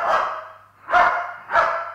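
A dog barks three times in a steady rhythm, each bark loud, close and alone with no talk around it.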